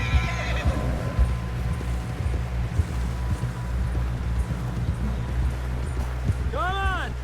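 In the Red Dead Redemption 2 video game, horse hooves clip-clop steadily through wind-swept ambience, and near the end a horse gives a loud, close neigh.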